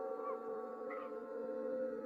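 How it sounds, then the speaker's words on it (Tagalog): A dog howls at night, a drawn-out, wavering tone held steadily throughout, with slight rising inflections, sounding somewhat distant and eerie. "Nagising ako sa kahimbingan ng pagtulog dahil sa nakakatakot na alulong ng isang aso."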